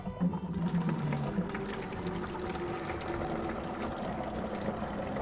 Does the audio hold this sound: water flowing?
yes